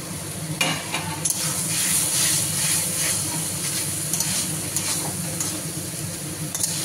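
Potatoes and snails frying together in an oily pan for a Bengali snail curry give a steady, close sizzle, with scraping stirs breaking through now and then.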